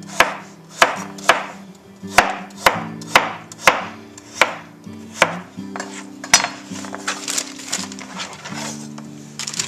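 Peeled carrots sliced diagonally with a knife on a cutting board, a dozen or so crisp, sharp chops in a fairly even rhythm, loud and close, with no voices.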